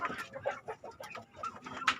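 Several chickens cluck in a farm coop in a rapid, overlapping series of short calls, close and fairly loud, with a sharper squawk near the end.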